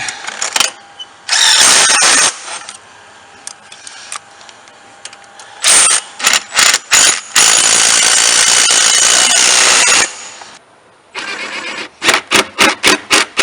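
A cordless impact driver runs down bolts on a lean-to shed build, firing in loud sustained bursts of buzzing and hammering, then a quick series of short rattling pulses near the end.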